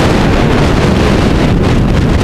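Strong wind buffeting the microphone while riding a Suzuki V-Strom 650 motorcycle, a loud, continuous, dense roar of broadband noise with no pauses and no voices.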